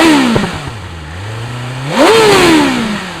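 A BMW S1000RR motorcycle with an Akrapovic slip-on exhaust, still fitted with stock catalytic converters and a dB killer, revs loudly and close up, its pitch dipping and then climbing sharply before easing off.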